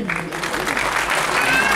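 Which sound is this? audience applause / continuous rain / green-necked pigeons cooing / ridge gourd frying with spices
audience applause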